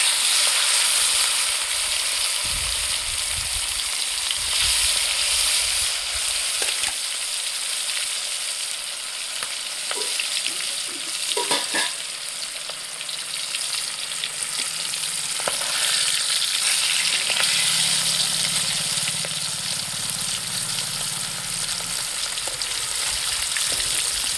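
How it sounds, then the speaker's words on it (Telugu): Gendi fish fry in hot oil in a pan, giving a steady, close, loud sizzle for about twenty seconds, broken by occasional clinks and scrapes of stirring. "నూనె అయితే బాగా కాగింది ఫ్రెండ్స్. ఇప్పుడైతే చేపలు వేసుకుందండి."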